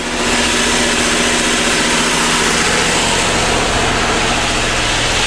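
The engine of an old 1981 school bus converted into a motorhome warms up, a loud, steady, close rumbling idle that holds constant with a slight rough edge and no talking.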